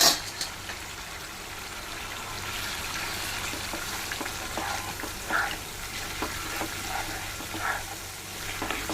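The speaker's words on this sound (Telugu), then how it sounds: "ఇది వేసేసుకోవాలి చింత చిగురిని" Fresh tamarind leaves tossed into a pan of mutton curry, giving a steady moderate sizzle with a few stirring scrapes and clinks, close by and without speech.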